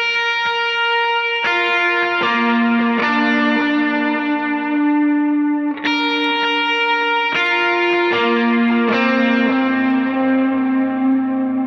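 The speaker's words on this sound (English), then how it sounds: "Okay, moving on to the main chorus riff of the song." An electric guitar played through a Line 6 Helix rings out a chorus riff of sustained chords and notes, washed in delay and reverb, loud and alone with each new strum blooming over the fading tails.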